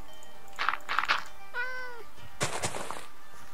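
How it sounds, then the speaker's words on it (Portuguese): A cat meows several times in Minecraft, a few short calls followed by one longer drawn-out meow and a final burst of game noise, all fairly close and clear with no talking. "caiu um gatinho aqui"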